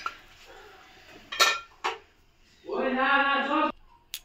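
Metal utensils clank and scrape against a pot as horse gram ghugni is poured, with a few sharp knocks and a longer scraping stretch, close and fairly quiet.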